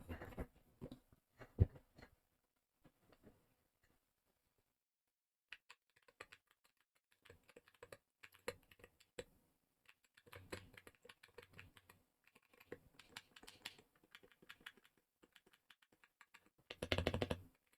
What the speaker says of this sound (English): Now we are going to do a sound test of the MCHOSE ACE 60.